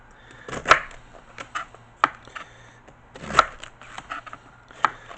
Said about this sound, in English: you want to just slice your cabbage up nice and thin so it cooks quickly